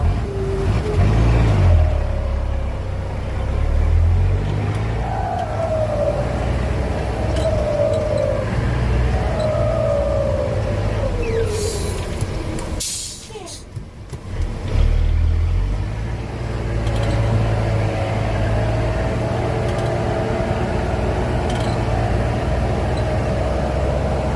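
A heavy ten-wheel truck engine running at a sand excavation site, a loud continuous low drone with shifting pitch as it revs, briefly dropping around the middle before resuming.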